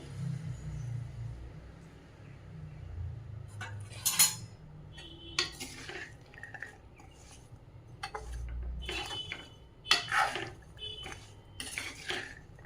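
Salted carrot pieces are stirred in a pan for a carrot fry, with a spoon scraping and clinking against the metal in scattered bursts over a low background rumble.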